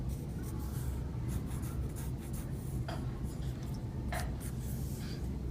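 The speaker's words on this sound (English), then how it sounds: "I'm drawing really lightly, so if I want to change, I can erase it easily." A pencil lightly sketches a wolf on paper, producing soft, close scratching strokes in short bursts while a voice talks over it.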